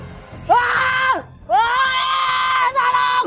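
A man lets out two long, loud rocker-style screams in a row, straining and wavering before trailing off, with a brief gap between them and a bright, hoarse edge throughout.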